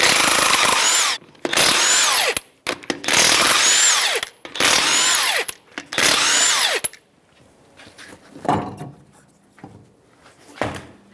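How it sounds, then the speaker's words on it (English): Power impact tool removing the wheel nuts on a 2013-2018 Toyota RAV4 with a 21mm socket, five loud close bursts of whirring, rattling hammering separated by short pauses, followed by quieter clunks and handling noises as the wheel comes off. "Remove the wheel, 21mm socket."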